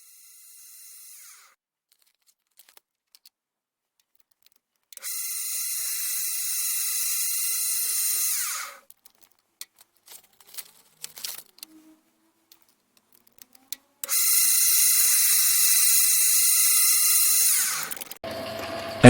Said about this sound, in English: the holes in the spindle flange are widened to allow movement